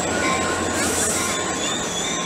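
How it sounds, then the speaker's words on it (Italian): A double-decker commuter train in California passes close by, a loud continuous rumble and rattle of wheels and cars with a high whine over it, sustained for the whole moment. "però ecco, questo è il treno che prenderemo noi, dei pendolari"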